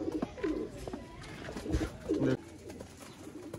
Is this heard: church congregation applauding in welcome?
no